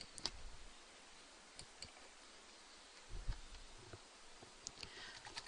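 Keyboard typing during a Quizlet word game: quiet, scattered key clicks and taps, some in short bursts, faint against a soft background hiss.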